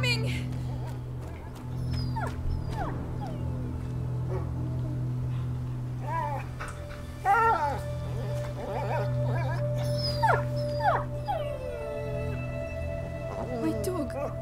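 A dog howls and whimpers in the video game A Plague Tale: Innocence, the cries rising and falling over a steady low game drone, with game voices speaking around them.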